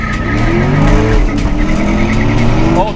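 A 2018 Camaro SS 1LE and a 2018 Corvette Grand Sport drag racing on a track, engines roaring loud and close with rising revs and gear-change pulses, a brief tire chirp near the end, no talk.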